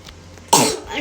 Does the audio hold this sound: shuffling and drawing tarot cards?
no